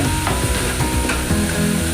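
Gobindobhog rice grains sizzle and fry steadily in a hot pan with ground cumin, a loud continuous crackle with light stirring scrapes, close and with no talking.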